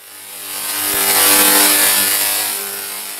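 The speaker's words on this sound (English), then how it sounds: "I like the rasp of this coil." A 100 bps Tesla coil throwing streamers, producing a loud, continuous rasping buzz that swells to a peak midway and eases off, heard alone and close.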